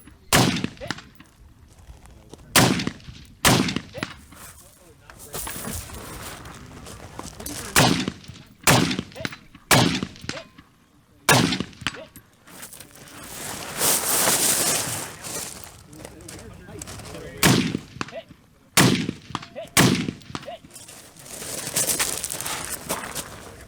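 Rifle shots crack out one by one at a steady pace during a 2-Gun match stage, loud and close, with short pauses and gaps of movement between them and an outdoor background.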